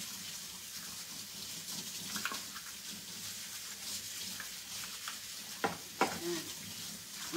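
Bitter gourd (ampalaya) and eggs frying in a home kitchen pan, a soft steady sizzle with stirring scrapes and a few sharper clinks and knocks near the end, with no talk.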